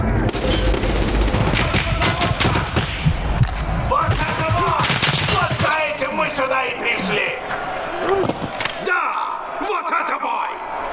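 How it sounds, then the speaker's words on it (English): Loud video-game gunfire from a teammate, with bursts of booming shots and rapid automatic fire packed into the first half, then scattered thuds, all under overlapping talk. "That was my teammate who decided to start shooting me"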